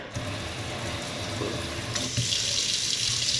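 Water streams steadily from a flexible kitchen sink faucet with attachments, a continuous close hiss that grows brighter and louder partway through, with no talking.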